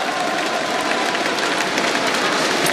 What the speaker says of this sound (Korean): Much, much 박수 부탁드리겠습니다.